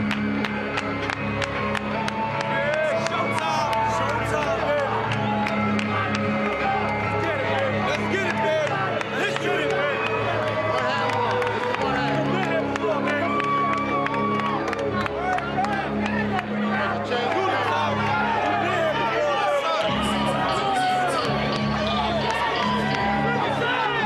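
A large boxing arena crowd roars and cheers continuously as Shane Mosley comes into view, a dense sustained wall of noise with a commentator talking over it.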